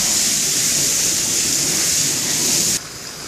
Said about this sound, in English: that's 20 gallons of water a minute flowing underneath there